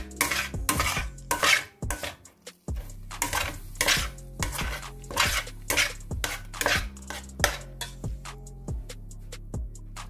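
A metal spoon stirs a thick milk barfi mixture in a pan, producing repeated clanking scrapes against the metal in an irregular rhythm, close and clear with no talking.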